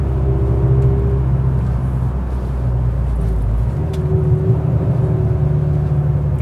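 A Fiat 500 Cult hatchback is driven through a set of corners, its engine a steady, loud buzzing drone with a deep rumble and a low hum that drops in pitch partway through, heard alone without talk.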